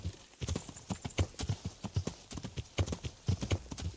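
Horse hooves clip-clop in Kingdom Come: Deliverance, a quick, regular, close rhythm of hoof strikes at a trot, with a voice talking faintly underneath.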